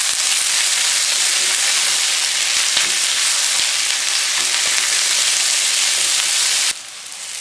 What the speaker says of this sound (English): Saute the onions for a minute and then I'm going to add the capsicum and carrots and saute them all together nicely.